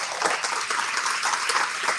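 Brief round of audience applause at a school board event, many hands clapping in a quick, steady patter with no talk over it.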